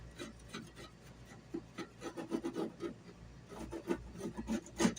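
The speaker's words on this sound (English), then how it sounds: "so I'm going to scrape this down" A scraper works damaged paint off a wall, making irregular rasping strokes that come in uneven bursts, fairly close and moderately loud, with no talking.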